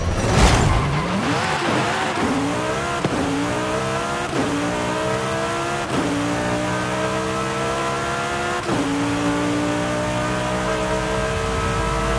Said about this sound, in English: 2013 Ferrari 458 Speciale